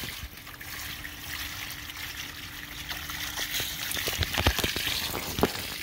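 Running water splashes and trickles steadily while food is rinsed off by hand, close and fairly quiet, with brief louder spatters toward the end.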